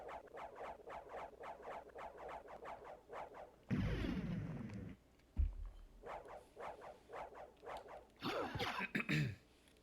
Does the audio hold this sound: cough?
yes